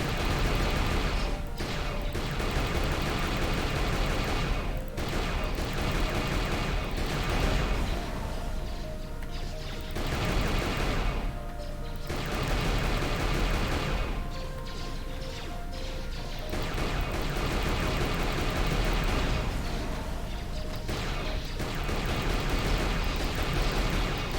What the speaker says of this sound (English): T3 firing at the Sith, I'm guessing. Pull out the turbo laser turret.